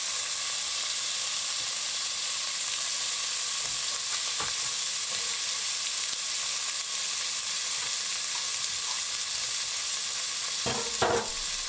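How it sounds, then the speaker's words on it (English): Pork belly sizzles steadily in a hot frying pan with a little oil, a continuous crackling hiss with occasional soft stirring clicks and no talking. "start frying the pork belly"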